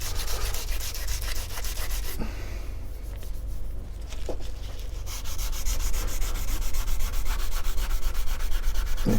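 Wet-and-dry sandpaper rubbing along an aluminium fork leg on a Suzuki GT750 motorcycle, a continuous close rhythmic scrubbing with a brief pause partway through, no voices.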